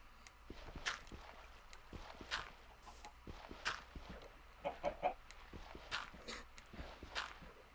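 A pet bird in Minecraft, called a duck, gives repeated short clucks at irregular intervals mixed with soft game footstep sounds, fairly quiet and close, no speech.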